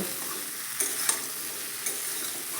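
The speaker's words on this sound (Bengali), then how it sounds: "আর দিয়ে দেবো অল্প একটু লবণ আর একটু হলুদের গুঁড়ো দিয়ে একসঙ্গে ভালো করে একটু মিশিয়ে নেব" Bottle gourd and prawns with salt and turmeric being stirred in a sizzling pan, a soft steady fry broken by a few sharp spatula scrapes and taps against the metal, no speech.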